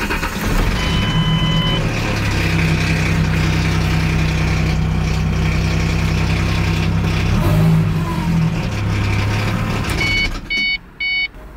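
Idling car engine with a worn timing chain, a steady low drone with rattly mechanical noise throughout, followed near the end by a few short electronic beeps.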